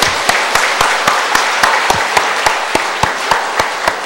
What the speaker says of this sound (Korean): 큰 박수로 맞이해 주시기를 바랍니다